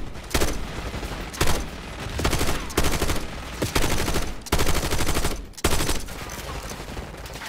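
Bursts of automatic gunfire in Call of Duty Black Ops 6, loud and close, arriving in repeated volleys separated by brief gaps, the weapon emptying many rounds into an enemy.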